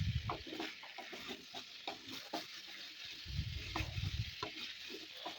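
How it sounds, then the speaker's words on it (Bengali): Cauliflower and potato are stirred and fried in a spice masala for a vegetarian curry, with a steady sizzle under irregular scraping strokes of a spoon against the pan, close and clear with no talking. "এবার ওর মধ্যে ফুলকপি আলুটা দিয়ে আরেকটু ভালোভাবে কষিয়ে নেব।"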